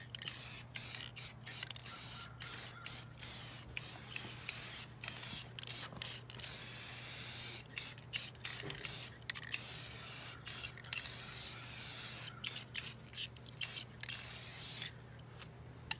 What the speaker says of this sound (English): then sprayed on a shiny metallic gold spray paint